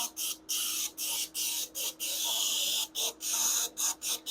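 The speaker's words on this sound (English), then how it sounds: "spray right down on the body to where you're not wasting" Short bursts of airbrush spray hiss on and off in a quick irregular rhythm, close and steady, with no talking, as paint is sprayed onto an RC car body.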